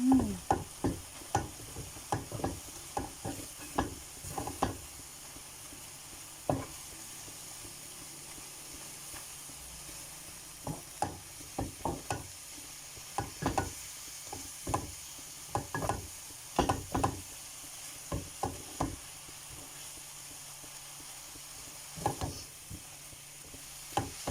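Chicken musakhan frying in a pan while a spoon stirs it, giving a steady low sizzle broken by irregular scraping clicks and knocks, close and moderately quiet, with no talking.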